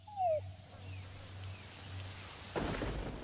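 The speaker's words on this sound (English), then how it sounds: "our intel unit is reporting rain approaching our vicinity" In Metal Gear Solid V: The Phantom Pain, a low rumble builds into approaching rain, which arrives suddenly as a steady hiss of falling water near the end, fairly soft overall.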